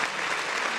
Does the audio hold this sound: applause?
yes